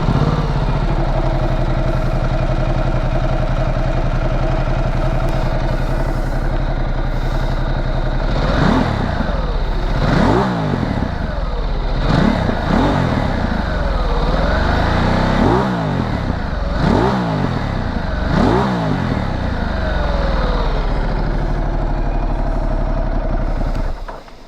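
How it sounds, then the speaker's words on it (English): Ducati Multistrada Pikes Peak motorcycle with Termignoni exhaust, its engine running steadily close by with a deep tone, then several sharp revs rising and falling in succession before settling back. "I think it's got a nice deep rich tone to it."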